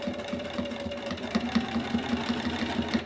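A sewing machine stitches quilt binding with a fast, even run of mechanical clicks and a steady motor hum close by.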